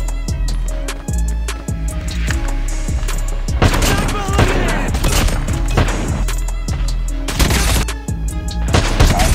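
Repeated loud, sharp sniper-rifle shots ring out in the mobile shooter Call of Duty: Mobile, with several cracks spaced through a busy stretch of in-game combat and a voice calling out between them.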